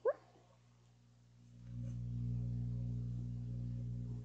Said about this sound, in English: He's purring, it's cute.